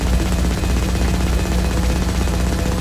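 Rapid, sustained gunfire from the heavy class in the game FireFall keeps going without a break, loud and close, with no other sounds.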